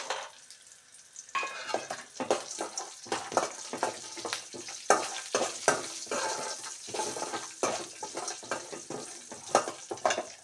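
Whole spices for paneer masala, with green chilies and cashews, fry and crackle in a pan as a spoon repeatedly scrapes and stirs. The busy, close clatter runs steadily throughout.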